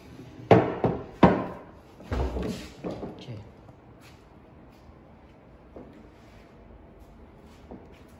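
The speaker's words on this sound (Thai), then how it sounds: "เดี๋ยวเราก็จะเอาปืนลม ยิงแม่คู่นะครับยิงยึดไว้ตรงนี้" A pneumatic nail gun fires staples into a wooden frame for Danish cord weaving: two sharp, loud shots close together, then softer knocks and thuds fading into quiet, with someone speaking.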